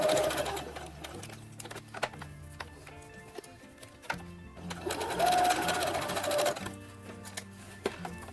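A sewing machine runs in bursts while top stitching fabric for a costume jumpsuit, its needle ticking rapidly with a low motor hum, the speed changing between stretches, close and fairly quiet with no talking.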